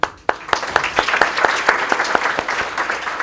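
An audience claps at a university accreditation event in Kenya, with loud separate claps in a loose, uneven rhythm. The clapping starts sharply and keeps going under a low murmur.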